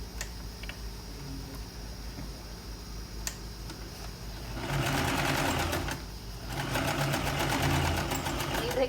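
A sewing machine stitches a shirt seam, a steady mechanical whir in two bursts separated by a brief pause, close and moderately loud with faint room noise between runs.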